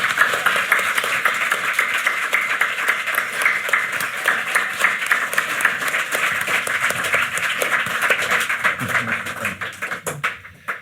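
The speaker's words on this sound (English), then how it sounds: "let's give him a round of applause" A live audience at a podcast recording at the Battle of Ideas claps for Andrew Doyle, a dense, loud, steady round of applause that carries on for about ten seconds before trailing off.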